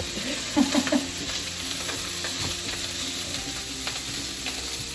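Sausage sizzles steadily in a pan while being cooked for cassoulet, a constant frying hiss with a few brief louder crackles and stirring knocks near the start, no talking.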